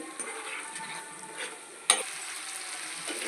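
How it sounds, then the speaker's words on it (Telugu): Raw prawns seasoned with salt and masala fry in a pan for biryani, giving a faint steady sizzle with a single sharp clink of a utensil partway through. "సాల్ట్ మసాలా వేసుకుని ఒకసారి ఫ్రై చేసుకుని ఒక రెండు నిమిషాలు మళ్ళీ వేపాలండి"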